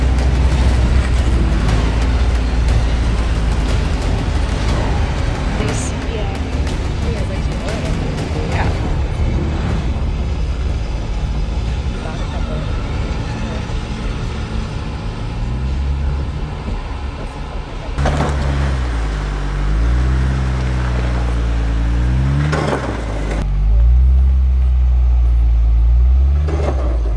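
Jeep Gladiator engine loud and close while rock crawling, a steady rumbling drone with rising and falling revs and a few surges, and brief mechanical clunks as it climbs.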